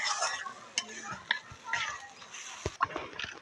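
Chapa shutki, pressed dried fish, is being cooked on a wood-fired clay stove, with irregular clinks, scrapes and stirring knocks over a faint sizzle, while voices murmur in the background.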